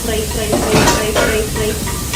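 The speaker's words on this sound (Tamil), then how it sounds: "கொஞ்சம் நல்லா ஃப்ரை ஆகும்." Ingredients frying in a pan for chicken biryani give a steady, close sizzle with stirring scrapes swelling now and then throughout.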